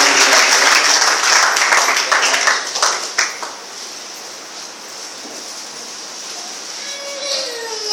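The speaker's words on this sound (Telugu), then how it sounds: "అందరూ చప్పట్లు కొడదాం ఒకసారి." A church congregation claps together in a loud burst that fades over several seconds to scattered, softer claps with some room noise.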